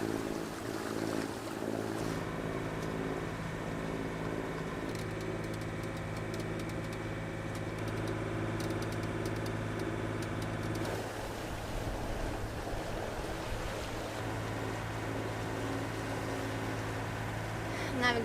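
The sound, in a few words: boat under way through Wrangell Narrows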